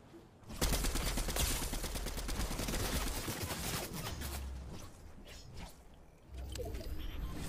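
A machine pistol fires in Fortnite in long, rapid automatic bursts, loud and close. The bursts run almost continuously with a brief pause before the shooting resumes.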